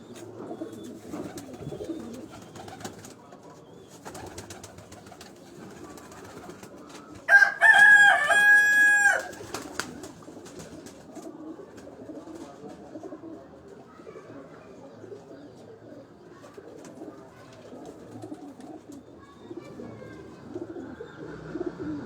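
Pigeons coo in a low, continuous murmur at a pigeon keeper's loft in Dhok Kala Khan, Rawalpindi. A loud rooster crow breaks in partway through, and faint voices are heard in the background.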